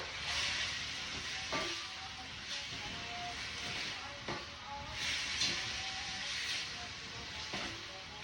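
Zucchini with salt frying in a pan and being stirred, a continuous soft sizzle broken by periodic scraping clicks and bumps from the stirring, fairly quiet with faint background noise.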